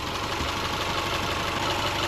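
A 2010 Subaru Forester engine idles steadily at operating temperature, a continuous close mid-range hum with a faint knocking texture and no voices.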